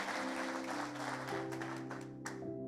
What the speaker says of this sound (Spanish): Le damos un aplauso de honra a los pastores.